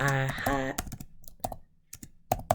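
Keystrokes on a computer keyboard as a note is typed: a brief stretch of voice, then sparse, separate clicks arriving in small clusters, fairly close and quiet.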